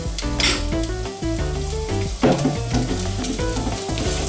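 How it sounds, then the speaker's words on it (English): Onions and garlic frying in heated olive oil for lasagne, a loud steady sizzle close up, with faint kitchen clatter and background music underneath. "I'm going to start adding our onions and garlics."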